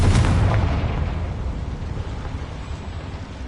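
A Confringo spell blast in the Hogwarts Legacy video game: one loud, close, booming explosion at the start that rolls off into a long fading rumble.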